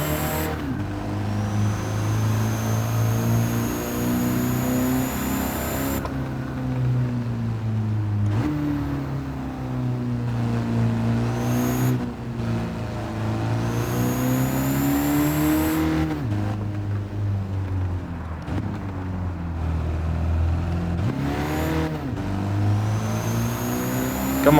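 Mercedes Unimog truck engine in Gran Turismo 7 drives continuously, loud and near, with a steady low drone that repeatedly rises in pitch as it revs, then drops sharply at gear changes or the governor limit, with no talk over it.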